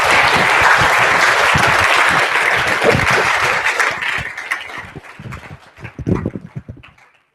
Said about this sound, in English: So can we just get a round of applause one more time for these guys?